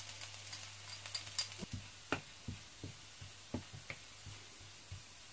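Garlic fries in hot, golden cashew oil, giving a faint, quiet sizzle broken by scattered soft clicks and taps of a utensil against the pan, with no voices.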